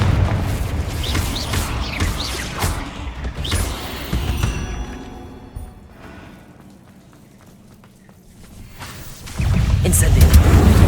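Confringo blasting-spell explosions in Hogwarts Legacy rumble as heavy, low booms that fade to a quiet lull and then swell back loudly, with a voice heard during the fighting.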